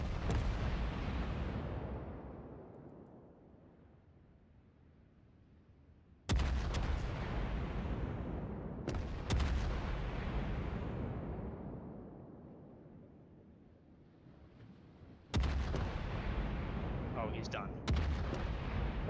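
Naval guns fire on a battleship in a video game, with four heavy booming blasts spaced seconds apart, each followed by a long rumbling decay that fades before the next shot. A voice speaks faintly underneath.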